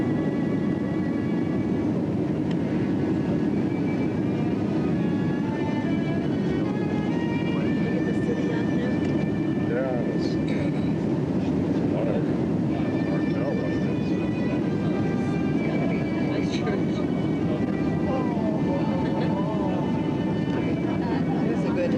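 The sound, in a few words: airplane cabin noise during landing at Christchurch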